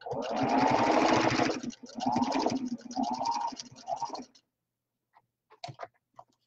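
A sewing machine runs in three bursts, a long one and two shorter ones, stitching the curved seam of a fabric protective face mask, followed by a few faint clicks and handling noises.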